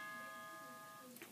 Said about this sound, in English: my doorbell, hold on.